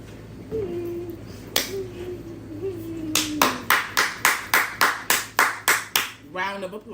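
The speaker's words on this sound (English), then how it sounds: "Round of applause for moi." One person claps hands at close range indoors, about a dozen sharp, evenly spaced claps in a quick steady rhythm, following a few seconds of vocal sounds.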